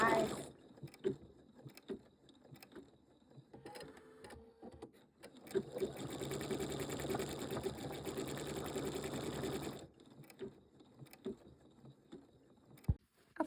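A Pfaff Creative 3.0 embroidery machine stitches with a rapid mechanical whir, starting and stopping in short runs before a long continuous stretch, then halting, with small clicks around it.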